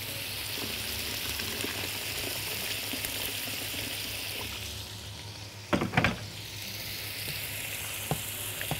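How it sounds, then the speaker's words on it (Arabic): Freekeh sizzles steadily in a pan as hot boiled water is poured over it, with a continuous frying hiss, soft stirring scrapes and a brief burst of louder bubbling and clatter near the end. "انزل بالميه السخنه المغليه."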